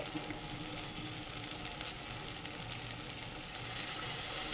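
Spice paste of coriander, cumin and turmeric powders with a little water stirred in a pan, giving a continuous broad sizzle with faint scraping, close and steady, with distant wedding music faintly beneath.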